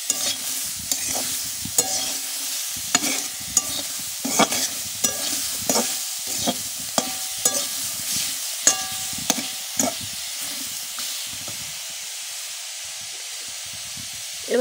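A spoon stirring Malabar spinach (pui shak) chorchori in a hot pan, with repeated scraping knocks against the metal over a steady frying sizzle. The stirring slows and the sizzle carries on alone near the end.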